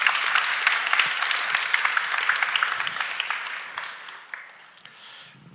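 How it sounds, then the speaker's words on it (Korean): A church congregation applauds to welcome a pastor to the front, a dense burst of clapping that starts strong and gradually thins out and fades over a few seconds. "박수로 맞아주십시오"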